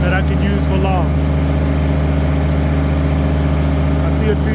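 A Kubota tractor engine idles steadily out in a forest, a loud continuous low drone with stable harmonic hum throughout, while someone talks over it.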